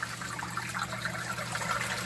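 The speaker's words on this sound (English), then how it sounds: "wait for all this water to run out of the two pipes that are going into the bucket" Water running out of two pipes into a bucket during a pump replacement, a steady close trickling and splashing with a low mechanical hum underneath and no voices.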